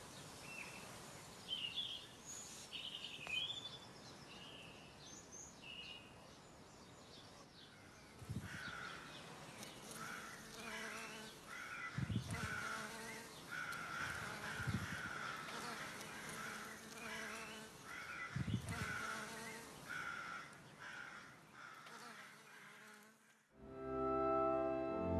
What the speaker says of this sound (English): Today we've come over to listen to the bees in the echium and all the birds in the sycamore tree.